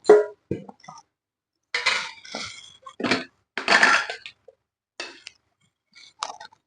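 A kadai is set down on a home stove before making Chettinad chicken varuval, giving a few short metallic clanks and clinks of pan against burner at close range, separated by quiet gaps, with no talking.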